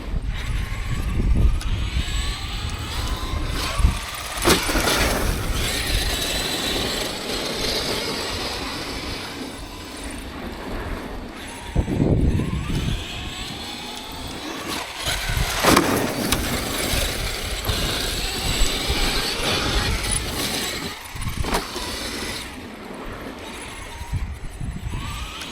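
A Traxxas X-Maxx 8S RC monster truck with noisy, squeaking bearings runs continuously for about 25 seconds, a loud grinding, rattling drive noise with several surges as it accelerates, heard alone without talk.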